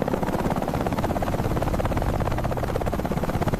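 A US presidential Marine helicopter runs its rotor, giving a loud, continuous, close thudding beat with a heavy engine drone and a faint high whine throughout.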